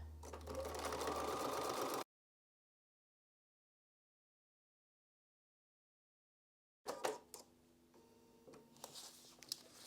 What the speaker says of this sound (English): sew on that solid line